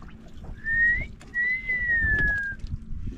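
A person whistles aboard a fishing boat, two clear tonal phrases, the second longer and gliding downward, over low background rumble.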